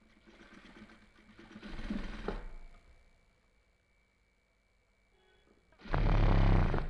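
Sewing machine stitching a sleeve seam on an 11-inch shoulder sleeve, a soft whirring run followed by a pause, then a louder close burst of rapid stitching near the end.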